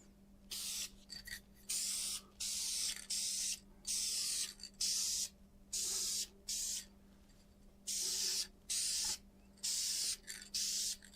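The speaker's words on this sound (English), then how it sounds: "I'm going to spray lacquer on" An aerosol can sprays lacquer onto a wood-turned soccer ball in repeated short hissing bursts, each about a second long with brief gaps between, close and steady over a faint low hum.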